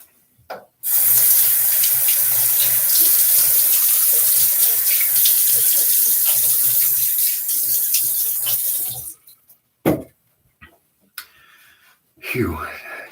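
A bathroom tap runs in a steady, loud hiss of water into a sink for about eight seconds as the face is wetted before a shave, then stops, leaving a few splashes and drips.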